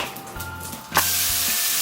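Raw beef dropped into an already hot pan, breaking into a loud, steady sizzle that continues without pause.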